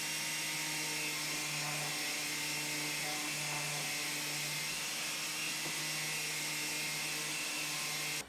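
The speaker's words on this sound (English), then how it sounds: "I'm just going to use my sander and go around on the edges" A sander runs steadily around the routed edges of a zero clearance insert plate for an Evolution Rage 5S saw, a continuous close motor whine with a low hum holding level throughout.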